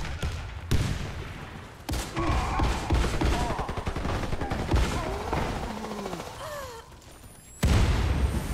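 Gunfire bursts and a grenade blast in the shooter game Warface, with loud booms at the start and end and rapid shots in between, backed by game effects and bits of radio chatter.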